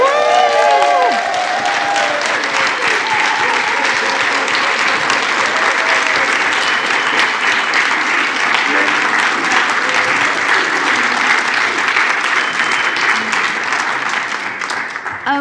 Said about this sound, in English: how about a standing ovation and lots of cheering and love?